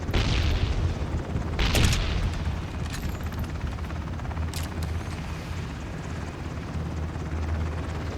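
A steady low rotor drone of a helicopter in the game Ring of Elysium fills the scene, with occasional sharp booms and bursts over it.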